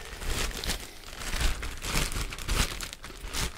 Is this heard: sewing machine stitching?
no